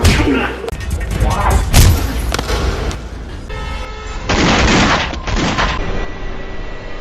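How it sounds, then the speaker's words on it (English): Relentless gunfire from an officer during an action film fight scene against syndicate enforcers: loud bursts of shots and heavy booms pound through a dense, chaotic mix, with brief shouted voices. "Officer Mark joins the fray with relentless gunfire"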